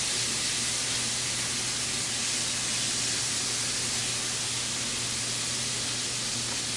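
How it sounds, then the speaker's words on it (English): A hot pan sizzles steadily before shrimp are added for a Cajun pasta, a dense, even hiss with no breaks, loud and close with no talking during it. "Y'all hear that noise? That's when you know that the pan's good and hot."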